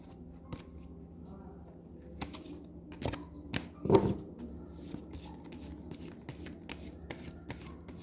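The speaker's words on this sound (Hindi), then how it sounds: "मैं इसको शफल कर लूँ।" Tarot cards being shuffled by hand, soft riffling and flicking with a sharper burst of shuffling midway, close and fairly quiet, with someone speaking Hindi at intervals.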